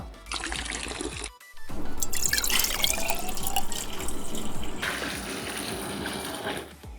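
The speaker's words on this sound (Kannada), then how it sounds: "ಅಕ್ಕಿಗೆ ಬೇಕಾಗಿರೋವಷ್ಟು ನೀರು ಆಡ್ ಮಾಡ್ಕೊಳ್ಳೋಣ" Water gushes and splashes into a pot of rice in a loud, continuous stream after a brief pause, nearby.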